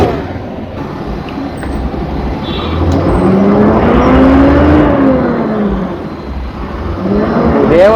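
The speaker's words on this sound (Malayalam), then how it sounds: "നമ്മുടെ കിടക്കാച്ചി ഡെറാഡോ ട്രാവൽസ് ഒന്ന് ഓടിച്ച് നോക്കാട്ടെ" A Prakash Zedastra bus of Dorado Travels drives along, its engine a steady low drone that swells as it pulls and shifts, heard from inside the vehicle.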